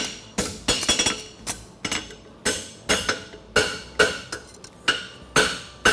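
A steel bar shoe for a horse hammered flat on an anvil at a farrier competition, with sharp metallic strikes in a steady rhythm of roughly two blows per second, each ringing briefly, close and loud.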